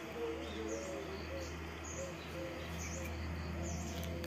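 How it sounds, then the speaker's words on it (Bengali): Faint, high chirping bird calls repeat every second or so above a steady low hum in an outdoor setting. "দেখো কি সুন্দর পাখি ডাকছে।"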